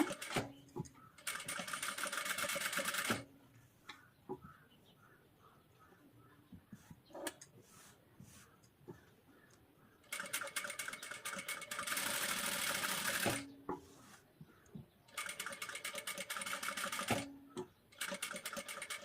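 A sewing machine stitches the back part of a blouse along a curved seam, running in three close, steady bursts of rapid needle clatter separated by quieter pauses.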